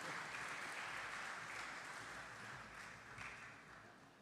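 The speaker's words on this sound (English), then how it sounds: "with a big round of applause." Steady applause from a crowd at a corporate tax talk fills the room, a dense wash of clapping that holds throughout at a moderate distance.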